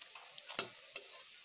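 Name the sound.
night jasmine leaf pakoras frying and being flipped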